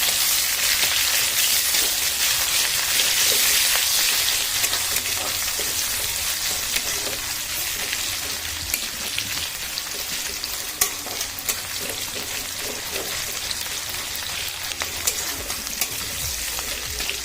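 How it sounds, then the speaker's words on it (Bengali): Chopped onions fry in a pan with a dense, continuous sizzle, close and fairly loud, while light scraping stirs tick through it at irregular intervals. "পেঁয়াজ কুচি দিয়ে দিলাম পেঁয়াজ কুচি দিলাম"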